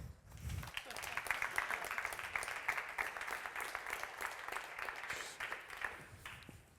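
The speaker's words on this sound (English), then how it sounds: "let's give a round of applause to King of Plumbers from Polymer Labs, Bo Du" Audience applause at a conference stage talk fills the clip, a steady wash of clapping from a sizable crowd that holds at an even level before easing off at the end.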